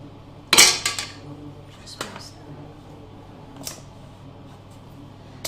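A pumpkin spiced latte cupcake tray going into an oven, with one loud metallic clatter as the tray slides in, followed by a few lighter clinks and knocks nearby.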